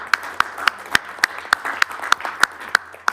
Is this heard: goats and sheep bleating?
no